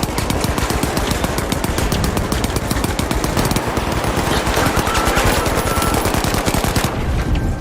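Rapid bursts of automatic gunfire from a multiplayer shooter video game, loud and continuous throughout with dense overlapping shots and only brief lulls.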